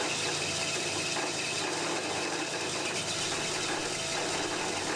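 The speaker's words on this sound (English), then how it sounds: "Turn on the saw." An ME250 horizontal bandsaw runs with coolant flowing onto the blade, giving a steady, loud wash of mechanical whirring and liquid hiss that continues without a break throughout.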